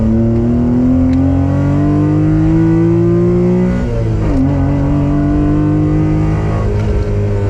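A Honda Beat's small engine with an aftermarket intake revs steadily higher toward 8,500 rpm in a loud, close, continuous whine, dips briefly, then holds a high buzzing drone.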